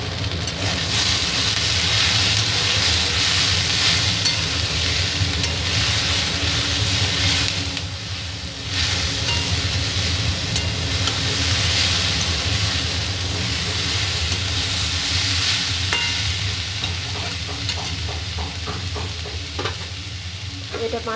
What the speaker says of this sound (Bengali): বন্ধুরা এটা হচ্ছে ভাজা ভাজা হয়ে এসছে।